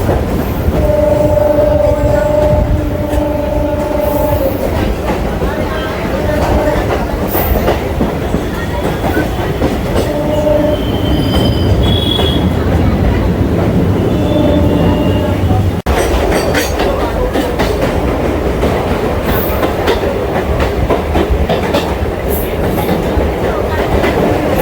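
A Kolkata Circular Rail local train on the Sealdah–BBD Bag line runs along, heard from on board as a loud, steady rumble and rattle of the carriage with continuous track noise.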